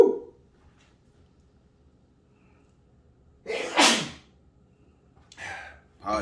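Someone seasoning chicken lets out one loud sneeze after a quiet stretch, followed by a shorter breathy exclamation.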